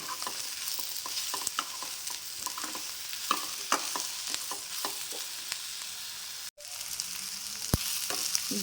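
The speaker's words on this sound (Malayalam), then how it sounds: "അതൊന്ന് നന്നായിട്ടൊന്ന് വറുത്ത് കിട്ടിയിട്ടുണ്ട്" Bitter gourd and shallots frying in a pan for a Kerala theeyal, a steady close sizzle broken by repeated clinks and scrapes of a spoon stirring, with one brief cut near the end.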